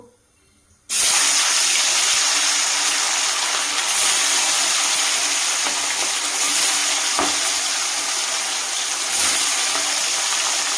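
Salt-and-turmeric-coated fish slides into hot mustard oil, and after a near-silent second a loud, steady sizzle bursts out and holds, with brief crackles and spits over the continuous frying hiss.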